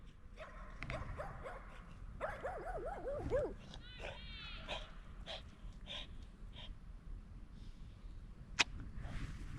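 A family dog gives a few short yips and whimpering barks near a pond, the calls clustered early and then fading under outdoor ambience and occasional voices.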